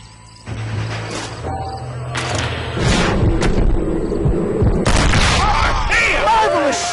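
Gunshots and heavy booms in Red Dead Redemption, several sharp blasts at close range with rumbling impacts in between, while voices speak over part of the exchange.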